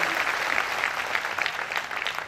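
A crowd at an inauguration ceremony for a religious leader's event in Maharashtra claps in dense, steady applause that holds at an even level throughout, with no speech over it.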